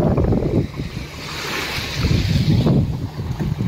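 Sea waves washing in at a quiet village beach in Singapore, surging and receding in soft rushes with wind buffeting the microphone.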